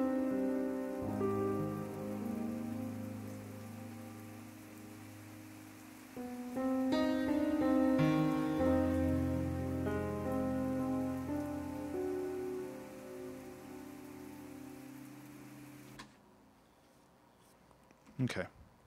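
Rain sample layered into a music track built during a two-hour production challenge, with a filter applied to the rain: steady soft patter beneath sustained melodic and bass notes, running throughout before the music cuts out near the end.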